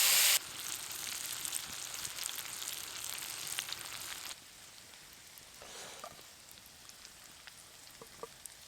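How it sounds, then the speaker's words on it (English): Garlic butter sizzles in a titanium pan over a camp fire, a bright hissing fry that drops abruptly to a quieter crackle halfway, with a few faint clicks near the end. "In with some of the garlic butter all over the top."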